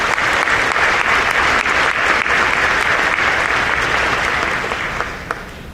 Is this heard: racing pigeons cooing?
no